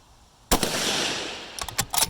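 A rifle shot fired at a long-range target, one sharp loud report with a long rolling decay, followed by a few fainter cracks or echoes near the end.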